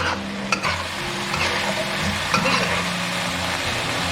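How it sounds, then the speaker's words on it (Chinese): Lobster tails braise in a pan with a little water, bean paste and hotpot base, sizzling steadily under close scraping stirs and clatters, with no voices. "再加入少量的清水，给它焖个2分钟"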